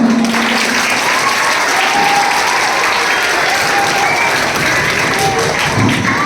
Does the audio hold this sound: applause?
yes